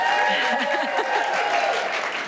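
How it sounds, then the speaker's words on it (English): An audience at a board installation ceremony gives dense, steady applause, fairly loud and continuous, with a few voices mixed into the clapping. "Yes, clap for her."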